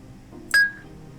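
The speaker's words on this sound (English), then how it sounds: "North is a Ding." A short electronic ding or beep from the realMyst Masterpiece Edition game in the Mechanical Age, a single clear tone that rings briefly and fades, alone against quiet background.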